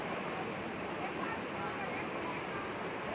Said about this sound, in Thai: วันนี้น้ำไหลเยอะมาก